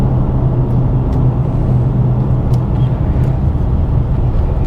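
Deep, loud rumble of a Dodge Challenger Scat Pack V8 with a stick shift, a steady throaty idle with slight revving swells heard up close, no talking.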